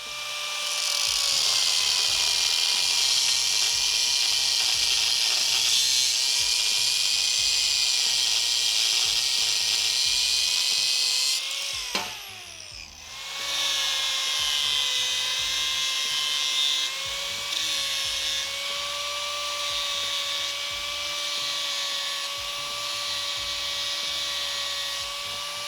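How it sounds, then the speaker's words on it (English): Angle grinder cutting off the welded fork stop on a motorcycle front end, a loud steady high-pitched whine that runs nearly continuously, briefly dropping and spinning back up midway. "So we're going to cut it off, and I'm going to just kind of rough cut it."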